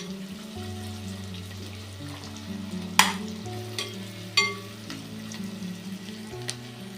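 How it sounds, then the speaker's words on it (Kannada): Onions and green chillies fry in ghee with a steady close sizzle, broken by a few sharp scrapes or clinks of a utensil against the pan, while faint tonal hum sits underneath. "ನಾವೀಗ ತುಪ್ಪ ಹಾಕಿ ಮಾಡಾಕತ್ತೀನಿ ರೀ. ಈರುಳ್ಳಿ, ಹಸಿಮೆಣ್ಸಿನ್ಕಾಯಿ ಇದು ಸ್ವಲ್ಪ ಫ್ರೈ ಆಗಲಿ."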